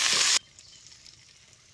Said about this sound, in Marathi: सौदा बी तेलात चांगला भाजून घ्यायचा